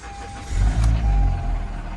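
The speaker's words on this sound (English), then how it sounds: "Cranked right up. We got a little engine rumble under there." A used four-door auction car's engine starts up with a brief crank and catches into a low, steady rumble, close and fairly loud.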